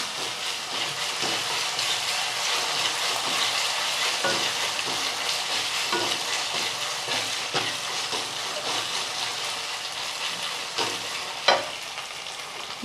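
Ginger-garlic paste sautéing in a pan for a potato bhaji, a steady close sizzle with a few scraping stir strokes and one sharper clank near the end, no talking.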